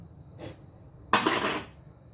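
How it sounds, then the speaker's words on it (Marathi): A metal pressure cooker lid is put onto the cooker in a home kitchen: a faint light clink, then a louder, brief metallic clatter as it settles, heard close up. "ह्याला कुकरचं झाकण लावून घेऊया"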